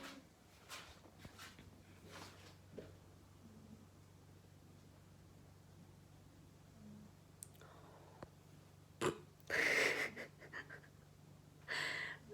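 A cat snoring while napping in an apartment: a few soft, breathy snorts, faint and irregular, separated by long near-silent stretches with small clicks.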